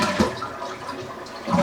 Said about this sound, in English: I would flush out the rest of the water from your tank.